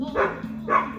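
Dogs barking at a cat outside, two loud bursts about half a second apart standing out over a low steady hum.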